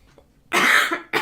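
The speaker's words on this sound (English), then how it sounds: "probably you're gonna hear me sneezing and coughing" A person coughs and clears their throat, first a faint throat sound, then a loud, drawn-out cough burst, followed by a second sharp cough.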